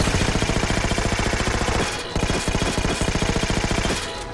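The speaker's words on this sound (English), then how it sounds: "Look at how bad this suppressor is." A suppressor weapon fires in Halo 4. Rapid automatic bursts pound loudly and close, with a short pause between two long strings of shots.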